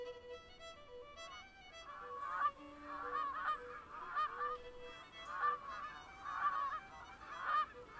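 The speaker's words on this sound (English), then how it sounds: "Canada geese again converge on the pond in autumn, filling the crisp air with their insistent honking" A flock of Canada geese honks repeatedly on a pond in autumn, with overlapping calls rising and falling in insistent bursts, moderately close over a quiet background.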